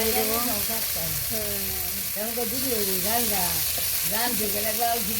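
Potatoes fry with a continuous loud sizzle in a pan during village cooking, while a person talks over the frying throughout.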